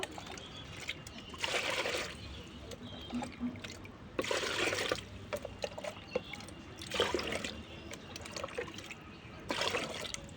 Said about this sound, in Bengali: আর একটু পানি নিতে হবে এই যে এটাতে দিব এতটুকু